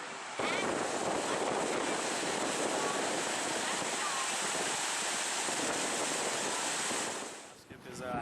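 Ocean surf at a beach in Pacifica keeps up a steady, loud wash of breaking waves for about seven seconds, with some wind noise, before it drops away near the end.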